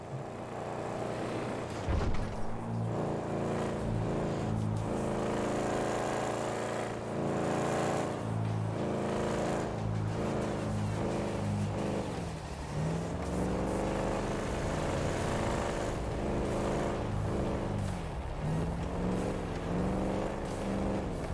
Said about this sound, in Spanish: Suena a coche americano de mucha cilindrada.